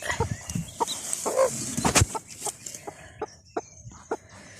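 A brooding hen in a small cage with her newly hatched chicks gives soft, scattered clucks and short peeps, fairly quiet and close, with light rustling between calls.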